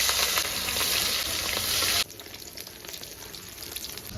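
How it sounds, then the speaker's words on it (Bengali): Pieces of fresh katla fish fry in hot oil in a wok, giving a loud, dense sizzle that cuts abruptly about halfway through to a quieter, steady crackle, with no talking. "তেল গরম হয়ে গেছে বন্ধুরা, এবার আমি মাছগুলো একটা একটা করে ভেজে নেব।"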